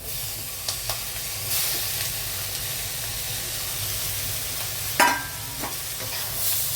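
Clam meat stirred and roasted in a pan, with a steady sizzle and frying hiss, soft scrapes of stirring throughout and a sharper clatter near the end, close and without talk.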